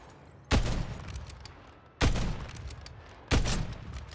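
Three sharp, loud gunshots ring out in a video game, evenly spaced about a second and a half apart, each with a short decaying tail and no talk over them.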